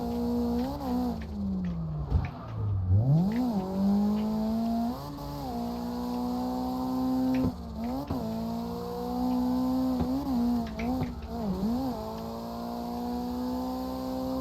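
Mazda RX7 practice car with an SR20DET engine, revving and driving, its note rising and falling repeatedly as the throttle is worked and gears change, loud and close with no talk.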